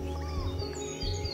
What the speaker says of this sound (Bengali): শুনশান নীরবতা, পাখির কিচিরমিচির শব্দ।